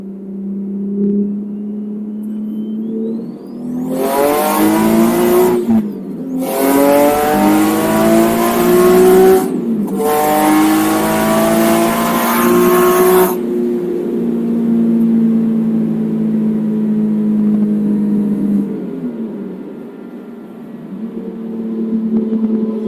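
A turbocharged Infiniti G37 revs hard through three loud rising acceleration pulls separated by brief gear-shift gaps, then settles into a steady cruising drone as the engine note fades.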